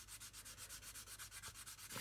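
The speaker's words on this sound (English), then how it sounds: "I've got a 600 grit hard sanding stick here and I'm just sanding the tape over the raised lines" A 600 grit hard sanding stick rubs over masking tape laid across raised lines on a model build, a quiet close rhythmic scratching of quick back-and-forth strokes, about eight per second, with no voices.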